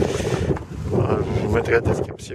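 Wind rumbling against a microphone outdoors during metal detecting, a continuous low buffeting that rises and falls while someone talks over it.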